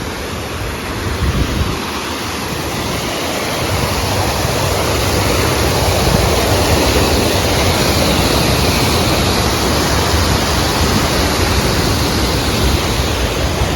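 Water pours steadily over the Kaikilampattu check dam near Puducherry, a dense, constant rushing roar like a small waterfall, loud and close, with no talking.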